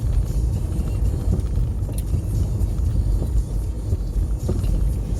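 Citroen C4 Grand Picasso driving on a road, a steady low engine and tyre rumble with broadband road noise running continuously throughout, close and fairly loud with no talk.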